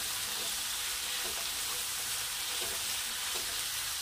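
Vegetables with salt sauté in a pan, giving a steady soft sizzle with faint scraping stirs at intervals, close and moderately quiet.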